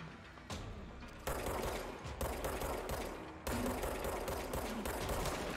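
Rapid sustained gunfire from the game Control hammers on in long dense bursts with only brief breaks, loud and steady throughout.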